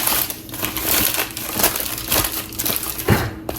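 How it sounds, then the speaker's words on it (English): Parchment paper being crumpled into a ball by hand while baking homemade sourdough bread, a close, loud run of crackling and crinkling that keeps going with small bursts and no talk. "So I balled up my parchment paper, and this makes it lay flatter and better."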